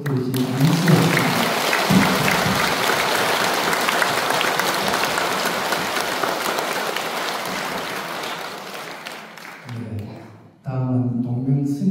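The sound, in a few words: audience applause at Buddhist service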